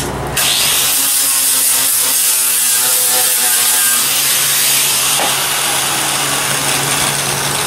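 Burrs being cleaned off the bottom of a small wooden piece in a woodshop, a steady loud abrasive power-tool grind running nearly continuously with no talk.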